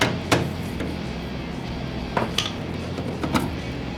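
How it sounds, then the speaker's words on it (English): Sharp metallic taps of a hammer strike a bolt a few times, spaced apart, close, during rear disc brake work on a 1963 Corvette, over a low steady background hum. "Take a hammer. Should take 1 or 2 hits to drop it."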